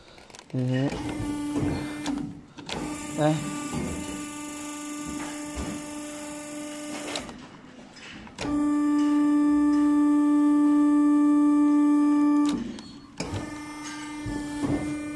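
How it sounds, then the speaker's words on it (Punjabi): A motorized grain cleaning machine runs in bursts, its motors giving a strong steady tonal whine that starts and stops several times, with someone talking over and between the runs. "ਮੈਂ ਚਲਾਉਣ ਲੱਗਾ ਮਸ਼ੀਨ ਤੇ ਹੁਣ ਤੁਹਾਨੂੰ ਵਿਖਾਉਣਾ ਵਾ 1 ਮਿੰਟ ਕਿ ਗੋਇਆ ਕਿੰਝ ਸਾਫ਼ ਕਰਦੀ ਹੈ।"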